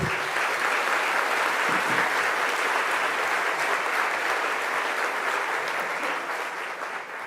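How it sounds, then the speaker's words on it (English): A luncheon crowd gives the RK Group servers a long, loud round of applause, thick, even clapping from many hands that holds steady before tapering near the end. "give a round of applause to our servers from RK Group"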